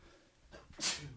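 A single sharp sneeze bursts out near the microphone after a quiet breathy moment, bright and hissy, fading quickly.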